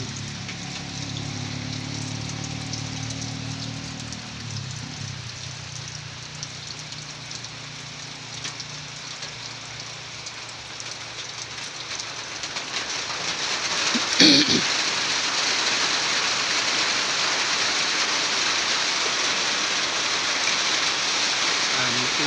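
Steady, dense rain hisses throughout, growing heavier partway through, with a low rumble early on and a brief knock near the middle.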